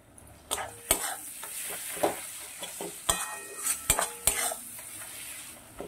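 Onion and garlic paste with Kashmiri chili powder frying in a pan, a quiet continuous sizzle broken by repeated sharp metallic scrapes and clinks of a utensil stirring against the pan.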